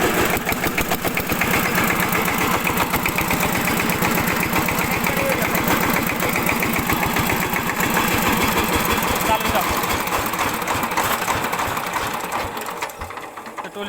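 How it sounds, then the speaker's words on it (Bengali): Diesel engine of a trolley vehicle idling with a rapid, steady mechanical chatter after its nozzle was replaced, loud and close, fading slightly at the end. "টলির ইঞ্জিনের সমস্যা আছে, নজল গেছেন গা, তো নজল লাগাইলাম, ইঞ্জিন ঠিক হয়ে গেছে।"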